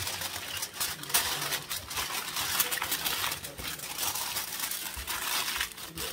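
Wrap is folded tightly around spare ribs before they go into a Pit Boss 850 Pro Series smoker. The crinkling and crumpling is close and continuous, with no voice.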